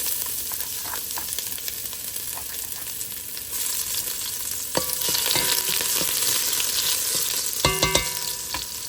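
Garlic sautéing in a pan for Filipino mung bean stew (munggo), sizzling steadily and close, with a few sharp clinks of a utensil against the pan.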